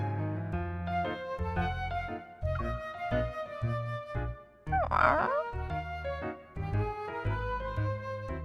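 A common mixed-breed pet dog named 17 in the video game Love and Deepspace gives a single short bark or yip midway, set against steady in-game piano music.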